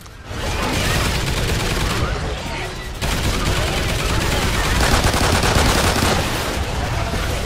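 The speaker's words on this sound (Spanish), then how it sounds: "Me está cubriendo una torreta mía." Sustained rapid automatic gunfire from the player's own auto turret in the video game Extinction Nightfall, a dense continuous clatter with a brief dip near the two-second mark, loud and close throughout.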